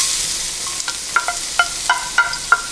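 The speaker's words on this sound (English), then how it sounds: "I'm adding about 2 tablespoons of oil. And first I'm going to cook my garlic" Garlic cooking in about two tablespoons of oil for clams with basil leaves, giving a steady close sizzle broken by a run of sharp utensil clicks and pops in the second half, with no talking.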